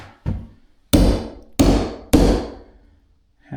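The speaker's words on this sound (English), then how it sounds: "hammer those flush" Four sharp hammer blows, one lighter tap followed by three heavy strikes in a steady rhythm, as trim fasteners are driven flush beside a broken door frame during drywall finishing work; close and loud, with no talking.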